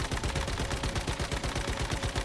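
Rapid, continuous automatic gunfire from a magazine being emptied in the video game Once Human, loud and close, with dense evenly spaced shots throughout.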